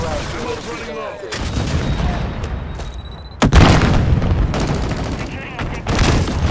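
An artillery barrage in a military video game, with heavy booming impacts and bursts of gunfire in rolling waves, one loud blast standing out midway, while a radio voice talks over it.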